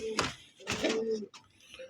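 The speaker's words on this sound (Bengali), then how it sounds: "বন্ধুরা এখানে একটা গররা কবুতর আছে দেখেন" A few close coos from a Gorra pigeon pair held for sale, three distinct throaty bursts with brief pauses between them, fairly quiet.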